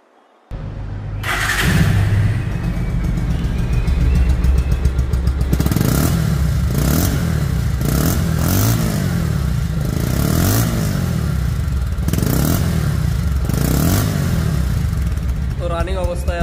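A 2024 Bajaj Pulsar double disc motorcycle starts up and idles close by, its engine settling into a steady throbbing rumble with several sharp throttle revs rising and falling, and someone speaks over it.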